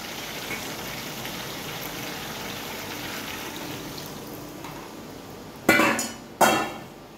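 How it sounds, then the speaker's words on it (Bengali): Water is poured into a pot of Kolkata-style chicken kosha in two brief splashing gushes near the end, after a steady low kitchen hiss. "এবার আমি এর মধ্যে জল দিয়ে দেব।"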